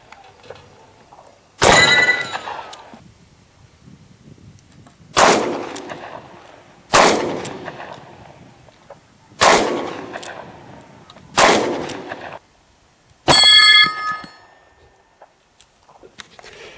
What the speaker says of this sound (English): Let's take out these other 2 steel targets.